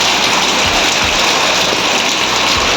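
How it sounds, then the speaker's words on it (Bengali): Heavy rain pours steadily onto surfaces nearby, a loud, dense, unbroken hiss of drops with a few low thuds beneath and no voices. "বৃষ্টি চলছে"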